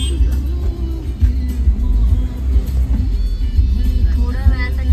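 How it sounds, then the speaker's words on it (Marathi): Road traffic stands jammed in the Jamsande market area, with a loud, continuous low engine rumble from nearby vehicles and occasional revving, while voices talk over it. "थोड्या वेळासाठी ट्रॅफिक झालेला आहे जामसंडेमध्ये."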